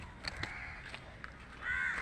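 Crow cawing beside a paddy field with stacked coconut fronds, several short caws followed by a longer harsh call near the end, fairly close and clear above light outdoor background.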